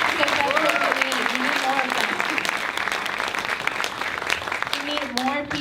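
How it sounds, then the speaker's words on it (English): Audience applause at an award show for a film and music video festival, dense steady clapping throughout with voices and cheers mixed in. "if you want to clap for him, there you go"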